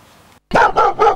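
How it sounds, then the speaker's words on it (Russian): Nursing dog barking at people approaching to count her puppies, three loud close barks in quick succession after a brief quiet pause. "так кормящая собака встречает людей, которые идут посчитать ее щенят"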